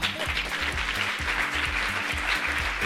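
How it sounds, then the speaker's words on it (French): An audience at a women's governance event applauds warmly as a guest is welcomed, steady close clapping for a few seconds over a low rhythmic hum of background music. "On l'applaudit chaleureusement."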